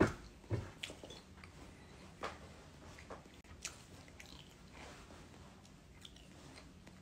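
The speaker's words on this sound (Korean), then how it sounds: "저 스시 먹고 있습니다." Close, soft chewing of white-fish sushi, with moist smacking and occasional crisper bites in an uneven rhythm, quiet and alone in a still room.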